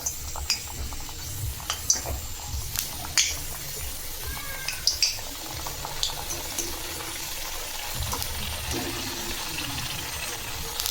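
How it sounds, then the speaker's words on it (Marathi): Puris for pani puri fry in hot oil, a continuous close sizzling and bubbling hiss with scattered crackles and light clinks of utensils. No one speaks. "तेल गरम झालं आहे। आता आपण पुऱ्या तळून घेऊ।"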